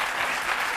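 Studio audience applauding a hairdressing team from Franck Provost on a French TV talk show, a dense steady wash of clapping with no voices over it.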